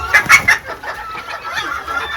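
A mini garnisé bantam chicken clucks loudly and close, a quick burst of sharp clucks followed by softer, trailing murmurs with no voices.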